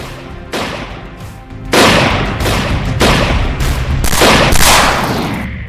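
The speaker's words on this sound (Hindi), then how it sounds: "करीब 18 से 20 राउंड गोलियां बरसाते हुए नजर आ रहे हैं" Loud bursts of gunfire, several rapid volleys of many rounds fired in quick succession, close and harsh, with echoing tails between bursts.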